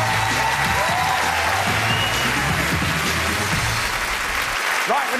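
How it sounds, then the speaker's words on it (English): A large audience at an impersonator show breaks into loud, sustained applause, dense clapping and crowd cheers filling the space, with voices and a sung note over it before it cuts off near the end. "Give a big round of applause."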